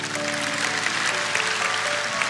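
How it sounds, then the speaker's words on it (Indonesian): Applause fills a church service, a dense steady wash of clapping from the congregation with sustained organ or keyboard tones underneath, continuous and moderately loud throughout. "Kita berikan tepuk tangan untuk Tuhan."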